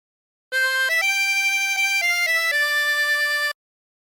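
A 24-hole tremolo harmonica plays a short phrase of Oh My Darling Clementine, a few sustained reedy notes stepping up and down in a steady legato line that starts and stops cleanly, heard alone.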